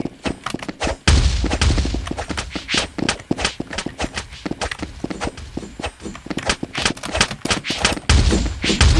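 Bombs hit and go off in the video game Gobattle. Dense, rapid bursts of impacts are close and loud, crowding together continuously over several seconds with no talk.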